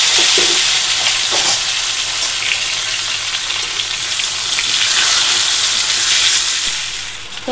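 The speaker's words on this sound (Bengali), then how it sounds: "ফোড়নে দেব কালো জিরে।" Nigella seeds tempering in hot oil left from frying fish, a loud, steady close-up sizzle and crackle that runs unbroken throughout with no talking.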